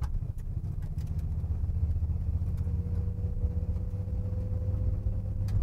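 A 1956 Ford F100 restomod pickup idles with a steady, low exhaust rumble, close and constant throughout, with no talking over it.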